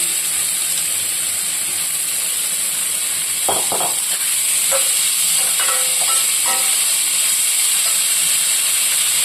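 Onions and green chillies frying in a pan for a Telugu-style chicken curry, a steady hiss of oil with several short stirring scrapes and clinks in the middle, close and moderately loud throughout.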